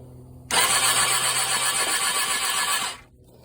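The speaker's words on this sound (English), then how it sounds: "So now I'm going to try to start the bike" A 1998 Suzuki GSX600F motorcycle engine cranks and catches, running loud and steady for about two and a half seconds before cutting off abruptly, close up in a workshop setting.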